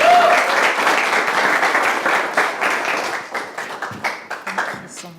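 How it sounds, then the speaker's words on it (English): Round of applause from a gathered audience for a woman pastor, dense clapping at first that thins out into scattered individual claps and taps toward the end, with no talking. "Round of applause to Pastor Rahab."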